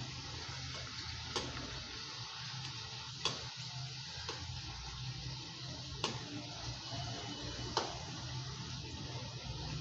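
Kadakni, a fried sweet puri, sizzles in hot oil in a pan as it is flipped, giving a steady soft frying hiss broken by a few sharp clicks of a turner against the pan, with no talk.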